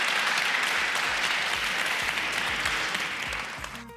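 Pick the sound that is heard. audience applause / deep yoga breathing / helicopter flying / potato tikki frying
audience applause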